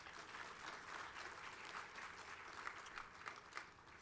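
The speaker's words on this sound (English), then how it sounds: "Give yourselves a round of applause." A crowd at an Ontario Sports Hall of Fame induction ceremony applauding, a dense, even wash of many clapping hands heard from a distance, sustained throughout without speech.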